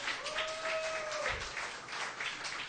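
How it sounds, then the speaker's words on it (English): Audience applause at the 2011 Irish Music Awards, a steady wash of clapping at moderate level throughout, with a brief tone drifting across the middle. "Let's have one more round of applause for my good friend"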